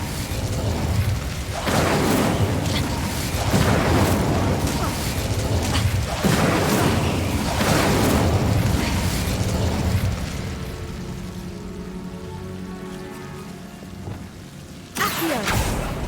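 Confringo blasting spell explosions in Hogwarts Legacy: loud dense blasts and bursts fill the first ten seconds, then fade into a ringing, humming tail before a final sharp burst.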